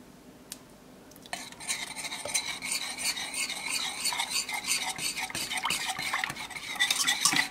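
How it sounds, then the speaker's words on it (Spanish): Steady scraping and swishing as coconut milk is stirred continuously in a pot for almond pudding, a constant close utensil-against-metal rasp with no talking. "Y vamos a estar todo el tiempo revolviendo."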